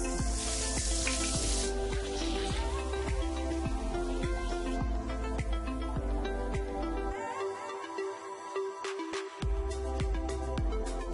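Fennel seeds, cumin and onion sizzle and fry steadily in hot oil in a pan, a continuous crackling hiss with occasional stirring clatter, loud and close, briefly dipping before resuming.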